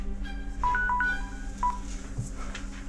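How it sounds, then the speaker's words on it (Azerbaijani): Telephone number dialed on a phone keypad: a quick series of about six short, clear DTMF tones over a steady low room hum, with no talking. "Yaxşısı bibimə zəng eləyim."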